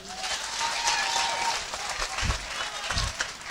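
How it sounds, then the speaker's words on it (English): A church congregation claps as an offering to God, dense applause filling the room throughout, with a few louder individual claps toward the end and faint voices underneath. "Give God a big clap of offering."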